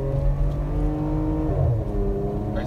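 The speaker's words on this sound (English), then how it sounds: "I'll rev it to red line" Porsche Macan with the muffler deleted, engine revving up toward redline: a loud, raspy, sustained roar with a slight dip and swell, close by and without talk.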